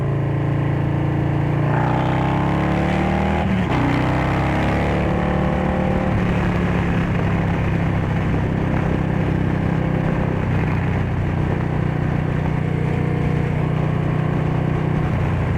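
Loud steady engine drone of a Harley-Davidson Street Bob 114 motorcycle with Stage 2 upgrades, with wind rush, the pitch shifting as it changes speed on an open highway.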